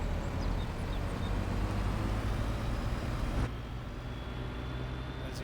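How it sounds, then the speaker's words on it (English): A Mack truck, the 82 Studios variant, drives in Farming Simulator 22 with a loud, steady low engine drone that drops in level partway through and carries on with no talk over it. "It's the 82 Studios variant of the Mack truck."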